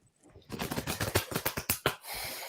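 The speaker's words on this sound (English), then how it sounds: "I'm gonna shuffle again." A deck of oracle cards is shuffled close by, a quick run of crisp flapping clicks lasting about a second and a half that ends in a brief soft rustle.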